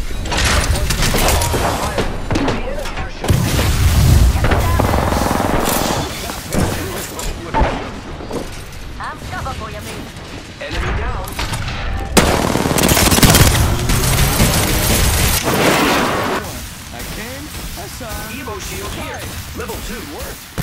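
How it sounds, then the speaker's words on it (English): Enemy gunfire rattles through a video game firefight: rapid automatic bursts and sharp shots come in close, loud waves, with mechanical clanks and voices talking over the shooting. "The enemy are shooting."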